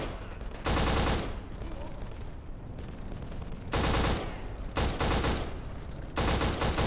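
Loud bursts of automatic gunfire in the 2006 shooter Black on Xbox, several sustained volleys separated by quieter gaps of game ambience.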